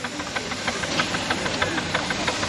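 A small Tasker steam traction engine runs at a steam fair in Rempstone, its steady rhythmic chuffing and knocking beats repeating evenly over a continuous hiss, close and moderately loud.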